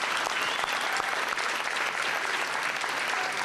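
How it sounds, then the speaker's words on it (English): Audience at a youth recognition awards ceremony giving a round of applause to parents and families, a thick continuous wash of clapping at an even level. "So I think we need to give your parents, your families, a round of applause."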